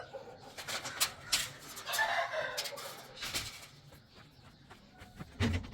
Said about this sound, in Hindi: असील मुर्गे जो हैं ये सुबह टाइम से खोलने से कितने खुश होते हैं